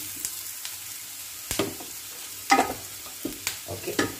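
Masala sizzles in a pan while a utensil stirs it, with sharp scraping clicks coming in irregular bursts.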